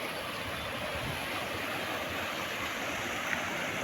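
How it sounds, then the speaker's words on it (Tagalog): Rushing water roars steadily, a broad continuous wash like a fast river current, with no voices; a shallow, fast-flowing river in Osorio, Trece Martires, Cavite, Philippines. "maagos yung ilog"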